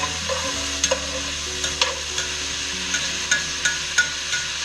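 Vegetables and parsley sweating in a pan for pork osso buco, a low steady sizzle broken by regular knocks and scrapes of a utensil about once a second; a low hum runs beneath, no talking.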